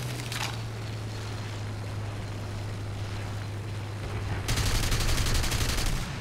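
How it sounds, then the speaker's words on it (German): Aircraft machine guns firing in the combat flight game War Thunder, a steady engine drone throughout, then a dense rapid burst of fire for the last couple of seconds. "Friss meine MG-Munition."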